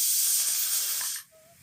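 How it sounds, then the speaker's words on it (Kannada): Steam from a pressure cooker cooking lentils for palak dal sambar gives a loud, steady, close hiss for over a second, then cuts off abruptly, leaving a short faint tone. "ನಾವಿನ್ನು ಪ್ರೆಷರ್ ಕುಕ್ಕರಲ್ಲಿ 3 ವಿಷಲ್ ಹಾಕ್ಸೋಣ"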